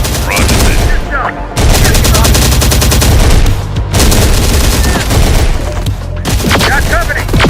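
Gunfire in Terminator Dark Fate Defiance, a loud sustained burst of rapid automatic fire in several long volleys with brief gaps, dense and close, with faint radio chatter underneath.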